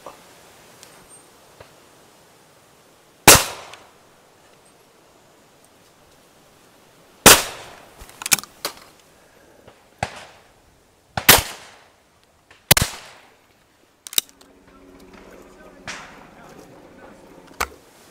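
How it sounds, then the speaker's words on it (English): Shotgun shots fired at sporting clay targets at a clays shooting ground in Lincolnshire: about seven sharp, loud reports at irregular intervals, with a quiet outdoor background and faint activity afterwards. "I'm going to shoot them like a clay shooter."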